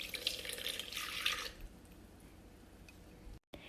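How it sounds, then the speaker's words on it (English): Half a cup of water poured into a sourdough starter, a bright splashing trickle for about a second and a half, then fading to a quiet room with faint handling noise. "Adding half a cup of water."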